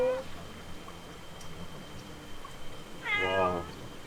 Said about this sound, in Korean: 지금 야옹이죠.